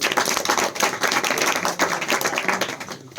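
An audience at a school New Year celebration claps to welcome a class 12 student to the stage, a brisk, close burst of many hands that thins out toward the end.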